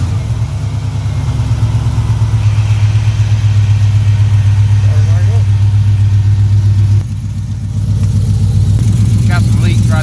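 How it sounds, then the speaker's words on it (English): A 1992 Chevrolet Silverado with a swapped LS 5.3 V8, freshly fitted with a new, unclamped exhaust leaking at the header, idles loudly and steadily throughout, with a brief dip near the end. "I'll go ahead and uncover the motor here and stick a battery in there and see if it'll even start."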